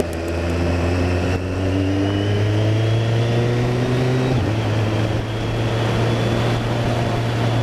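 A BMW K1300S motorcycle with an Akrapovic silencer and quick shifter idles and revs, a loud, steady engine drone whose pitch climbs gradually, then dips and settles, close to the bike with no talking.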